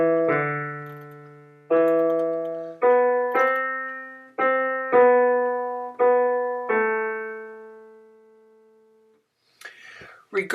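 Organ pedal line from a Brahms chorale prelude sounds as about eight separate notes, each decaying before the next, in a slow, even stepwise bass, followed by a short burst of noise at the end.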